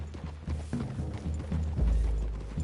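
Horse hooves clip-clopping in Red Dead Redemption 2, a soft, uneven series of steps at moderate distance, with a low rumble swelling toward the end; no speech.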